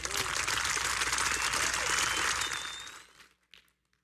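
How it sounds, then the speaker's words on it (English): An audience at a gala event gives a dense round of applause for the sponsors, steady for nearly three seconds before tapering quickly into silence. "So please give a big round of support or applause to all of our sponsors."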